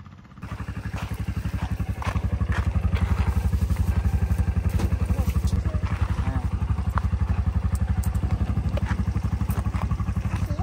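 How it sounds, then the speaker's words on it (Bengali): A motorbike engine running steadily as the rider sets off, a close, continuous low throbbing that starts after a brief quieter moment and holds even throughout. "আর আমি এখন বাইকে করে যাব।"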